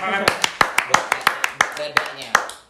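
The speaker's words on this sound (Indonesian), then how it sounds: "tepuk tangan" Students at a university economics faculty chat session give applause. The claps are sharp, distinct and fairly close, in an uneven rhythm of about a dozen, with voices murmuring underneath.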